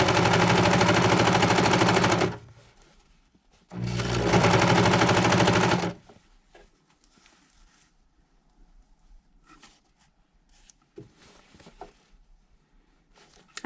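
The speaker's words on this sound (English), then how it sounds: "I'm going to sew it to that long edge" A sewing machine stitches the long seam of a surgeon's hat in two loud, steady bursts of rapid mechanical whirring, each about two seconds long, followed by faint handling sounds.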